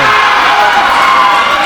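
Wrestling audience cheering steadily at an independent women's match, a loud continuous roar of many voices with no break.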